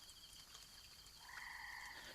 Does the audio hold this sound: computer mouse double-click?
no